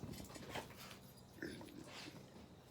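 A dog whimpers and snuffles softly, giving a few faint whines and grunts at irregular moments.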